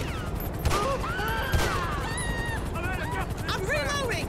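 Gunfire in the GTA 5 LSPDFR police mod, a few sharp bursts ringing out at moderate distance over a busy game mix with voices talking throughout.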